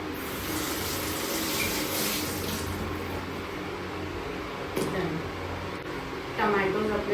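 Tap water runs steadily over tomatoes being washed, a close, continuous hiss and splash with brief louder splashes as the tomatoes are handled.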